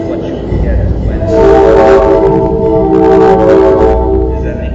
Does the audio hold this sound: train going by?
yes